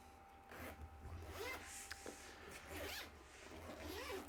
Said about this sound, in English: So let me zip it up.